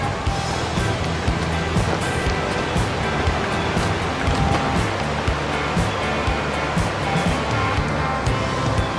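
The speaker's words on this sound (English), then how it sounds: "I don't know whether you can hear the water or not, but it's big down here" A big waterfall roars up close from below the falls, a loud, steady wash of rushing water with no break, dense and broadband throughout.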